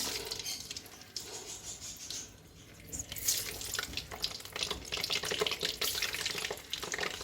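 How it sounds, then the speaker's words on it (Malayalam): Unnakkaya, a plantain snack, frying in hot oil with a steady broadband hiss and crackle that keeps going throughout and swells slightly partway through, with no voices. "നമ്മൾ ഉന്നക്കായ പൊരിച്ചെടുക്കുക."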